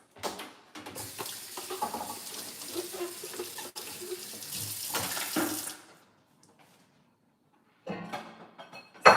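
Tap water runs steadily into a sink while a utensil is rinsed, a continuous splashing hiss that stops abruptly, then a brief burst of water returns near the end.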